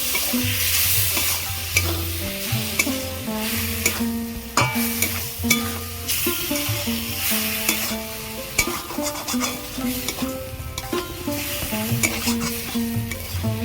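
Lote fish added to a frying pan of spiced oil give a dense, close sizzle with repeated stirring scrapes and light clinks, under a background of continuous music.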